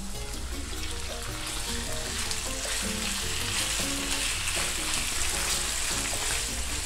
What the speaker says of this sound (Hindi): अनियन को थोड़ा फ्राई करने के बाद अब ऐड करेंगे 1/2 kg बोनलेस चिकन।